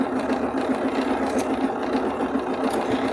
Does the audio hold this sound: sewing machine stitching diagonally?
yes